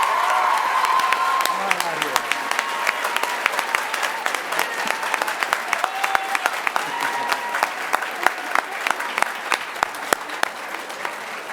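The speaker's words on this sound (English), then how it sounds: "So can we give him a huge round of applause?" A school audience at a middle school awards night applauds a departing staff member, dense steady clapping with scattered cheers and whoops, loud and close throughout with a brief voice near the start.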